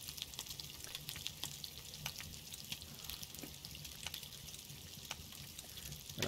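Steak sizzling over a campfire in the survival game SCUM, a faint, steady frying crackle with soft pops, continuous and quiet throughout with no talking.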